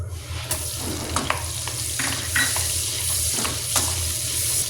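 Chopped onions sizzle and fry in a pan of melted butter, a steady close crackle with occasional stirring scrapes; no one talks.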